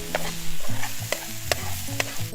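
Potatoes and onion sizzle steadily in a frying pan at a beach camp while a utensil stirs and scrapes them in repeated strokes, close and loud with no talking.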